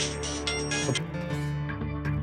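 A phone rings steadily with a continuous electronic melody, loud and close, with no voices over it, as a call comes in from dad.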